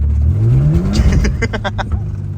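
A car engine screams at full throttle while drifting around the Freedom Factory, the pitch climbing then pulsing with rapid revs close by, with voices mixed in.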